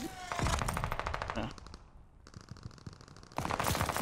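Rapid bursts of automatic gunfire ring out in a Call of Duty match on the Champion Hill mode, loud and close, with a brief lull in the middle before a final burst.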